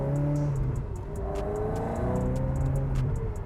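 A modern classic car drives along with a steady, fairly loud engine drone that rises and shifts with throttle, heard from inside the cabin.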